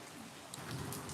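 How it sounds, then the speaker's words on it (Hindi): Rain falls steadily in cold winter weather, a dense, even hiss of drops heard close by for a brief moment with no voices. "देख ले बारिश हो रही है"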